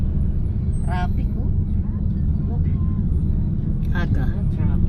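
City road traffic in General Santos, a constant low engine rumble from nearby vehicles with a couple of brief higher whines, heard from within traffic while people talk over it.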